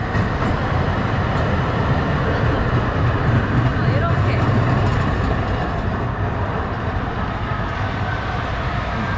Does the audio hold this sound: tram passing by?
yes